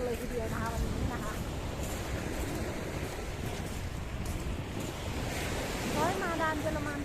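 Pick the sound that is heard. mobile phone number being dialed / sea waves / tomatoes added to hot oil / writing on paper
sea waves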